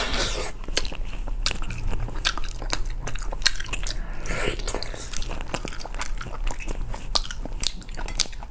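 Spicy abalone snails being bitten and chewed up close in a steady run of crunchy, wet bites and squishy mastication, loud and continuous with no talking.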